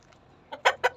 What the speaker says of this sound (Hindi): आपके सामने मुर्गी है